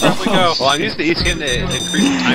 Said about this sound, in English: That's the alarm, guys.